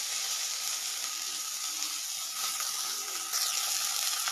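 Ginger and garlic paste sizzle in hot oil with browned onions in a pan, a steady loud frying hiss with a brief sharper spatter near the end, no voices.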